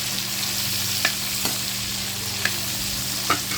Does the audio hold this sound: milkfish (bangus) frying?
yes